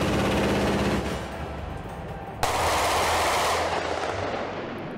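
A SkyShield anti-aircraft system's 35mm revolver cannon fires at about 1,000 rounds per minute, a loud rapid stream of shots rolling into a sustained roar, then a sharp new burst midway that continues to the end.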